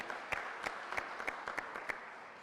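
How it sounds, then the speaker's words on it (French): Distinct, evenly spaced claps ring out over a soft background of wider applause at a conference special session, moderately distant and fairly faint. "vous demander une grande ovation et tous vos applaudissements"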